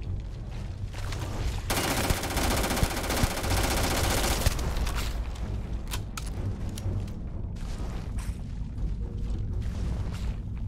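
Gunfire in the video game Starfield, a dense rapid burst of automatic shots followed by scattered single shots and impacts, loud and close with no talk over it.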